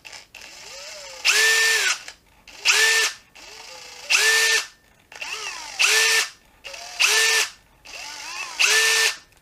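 A Makita DF032D 12-volt impact driver is triggered six times in a row, each run starting slowly, then leaping to its high-speed mode with a loud, rising whine close up, separated by brief pauses.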